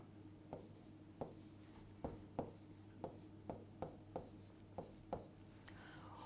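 A pen writes a word by hand, its strokes scratching in a rough rhythm of about ten short, quiet strokes over a faint steady hum.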